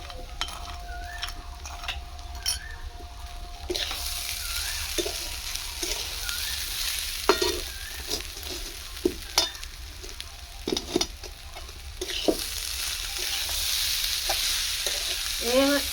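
Rice being fried and stirred in a pan with salt and sugar for Bengali basanti polao, a steady sizzle broken by repeated scrapes and clinks of a spoon against the pan, close and clear, with no voices.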